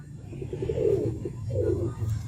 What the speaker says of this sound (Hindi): ये वो कबूतर है ये जो पिंजरे में जाल में जाने की कोशिश कर रहा है।